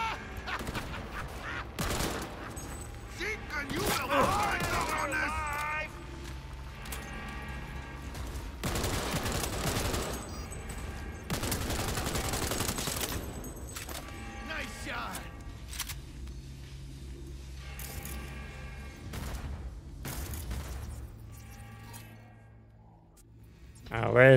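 Gunfire in the video game Cyberpunk 2077 comes as scattered, fairly quiet bursts and volleys of shots mixed with other game noise, with a voice heard at times.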